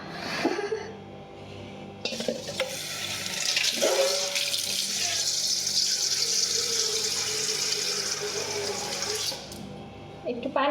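Tap water runs into a kitchen container in a steady, close, splashing gush for most of the clip, with a clatter as it starts and stops.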